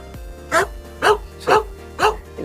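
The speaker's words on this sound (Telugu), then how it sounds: "కనిపిస్తుందా కుక్క అది చూడండి ఎంత గట్టిగా మరుగుతుందో" A dog barks loudly at a steady pace, four or five sharp barks about half a second apart, close by over a low background hum.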